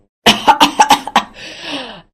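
In a cartoon scene with dust flying up from wheat spread across a courtyard, a woman gives a quick run of five or six harsh, loud coughs, then a short breathy, rasping exhale that trails off.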